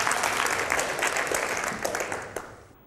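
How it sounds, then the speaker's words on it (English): A studio audience applauding on a talk show about child abuse, dense clapping from many hands that stays steady, then thins and fades out at the end. "Esther, let's give her a round of applause."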